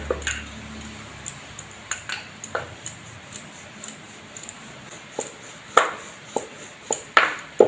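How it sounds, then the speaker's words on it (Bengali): A rolling pin works balls of dough thin for a palm-fruit paratha, producing soft, irregular knocks and light clicks against the board, quiet and close with no talk. "যেমন আমরা রুটি বেলি সেইভাবেই পাতলা করে বেলে নেব"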